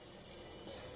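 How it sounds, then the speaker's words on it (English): Live crickets chirp faintly in a few short, high bursts against quiet background noise, with no voices. "Oh, those are like legit, like live crickets."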